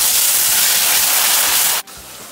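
Tomato paste and sea snail fry in hot oil, a loud, steady hiss and sizzle close up that cuts off sharply near the end, leaving a quieter background.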